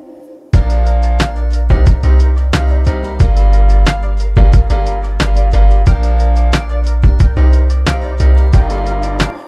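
Instrumental chorus of a pop song with the vocals muted, a loud mix led by piano and punchy drums with steady kick and snare hits over sustained chords, playing continuously.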